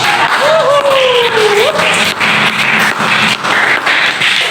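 Students in a classroom clap together at a teacher's prompt, with loud, dense applause that has a whistle-like squeak early on and voices mixed in.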